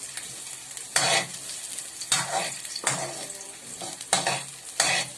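Garlic and onion frying in a pan for ginataang halaan, stirred in a regular rhythm of five or six loud scraping, sizzling strokes about a second apart, close and without talking.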